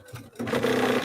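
A sewing machine quilting a thick, bulky baby blanket starts up and runs with a steady mechanical hum, close and fairly loud.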